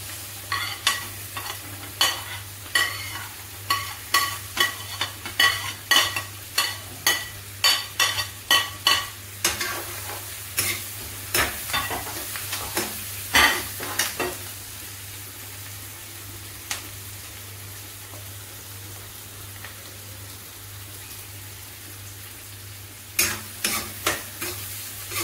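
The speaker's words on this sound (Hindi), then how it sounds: "प्याज हमारा जब तक पक रहा है" Chopped onions with green chillies frying for pav bhaji, a soft steady sizzle in the pan broken by a quick run of spoon scrapes and stirs, then quieter frying with a few more stirs near the end.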